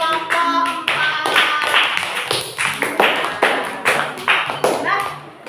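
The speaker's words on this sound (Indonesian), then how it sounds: "Tepuk tangan untuk kelompok 4." A classroom group claps for a presenting student group, brisk uneven hand claps filling the room, with voices talking over the clapping throughout.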